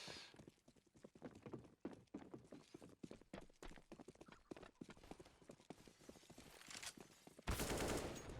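Rapid gunfire in Counter-Strike on the de_inferno map, a dense series of sharp, loud shots in quick rhythm, some in tight bursts, with a harsh noisy blast near the end.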